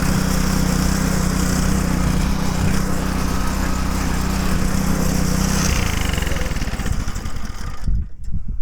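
A homemade tractor engine runs loud and close at high revs without settling to idle, a steady droning roar that holds throughout before wavering slightly near the end.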